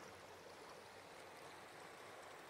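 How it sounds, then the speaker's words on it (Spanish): A river's current rushes steadily as a continuous, even wash of flowing water, faint and distant-sounding, with no voices over it. "Aquí se escucha la corriente."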